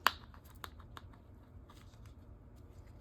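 Plastic packaging from a Dollar Tree haul crinkles close by in a sharp first burst, then scattered softer crackles and rustles over a quiet background.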